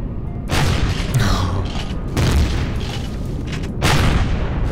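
Weapon shots in the space survival game Empyrion Galactic Survival: three heavy, booming blasts arrive about every one and a half seconds, each a loud broad burst over a steady rumbling background.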